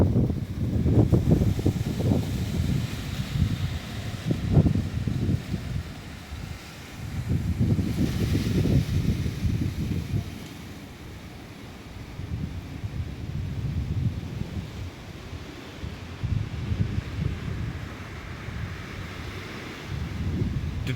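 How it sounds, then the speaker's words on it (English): Strong, high wind roars across an outdoor stadium on a very windy day, buffeting the microphone in long gusty surges that swell and ease throughout, with no voices heard. "The winds are so high."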